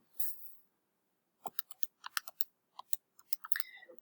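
Fingers tap out a calculation on a computer keyboard: a quick run of sharp, close clicks in irregular bursts after a short pause, with a faint rustle at the start.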